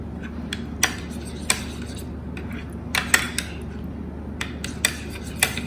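Spoon scraping and clinking against a bowl while a curd and dill dip is mixed, with irregular sharp taps and scrapes over a low steady background hum, close and alone.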